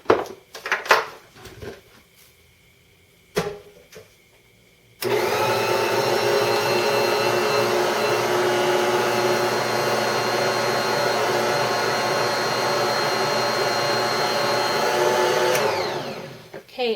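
An electric mixer kneads bread dough ingredients with yeast, running as a loud, steady whirring drone for about ten seconds after a few clinks and knocks, then winding down at the end.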